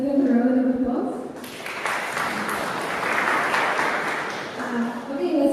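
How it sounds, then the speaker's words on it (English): Audience applause at a voice technology conference session, a dense sustained clapping wash that swells after the first second and continues steadily to the end, with faint voices underneath. "Let's give them a round of applause."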